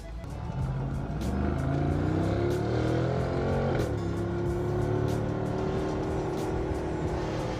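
A powerful car engine roars and revs up through the gears, pitch rising and dropping at a shift, loud and close with a steady rumble.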